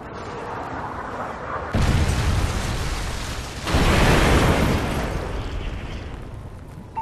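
A Predator missile strike in Call of Duty: Modern Warfare 3 lands as two heavy booming explosions in a row. Each broad blast rumbles and slowly fades over steady battle noise, with no talking.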